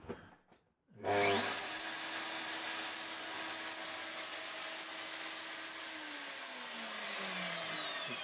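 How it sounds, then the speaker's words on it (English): After a brief silence a router in a TWX7 router table switches on, spinning up into a loud, steady high-pitched whine that holds for several seconds before winding down as it is switched off. "turn the switch on for the router"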